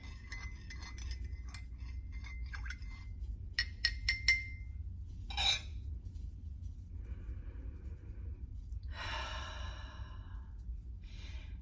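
A spoon clinks against a glass cup of peppermint herbal tea in a few quick, bright taps, followed by a soft breathy sniff and a long exhale in an otherwise quiet room.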